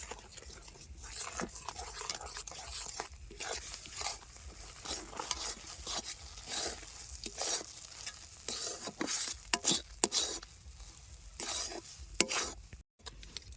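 Puffed rice powder and sugar are stirred slowly in a pan with a soft, continuous scraping and light patter. It is close but quiet, with no speech.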